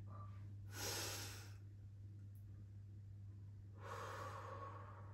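Two deep, audible inhales through the nose during a seated cross-legged Pilates exercise, each lasting about a second, separated by a quiet pause over a low steady hum.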